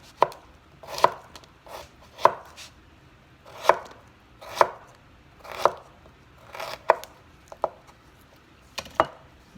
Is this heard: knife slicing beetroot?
yes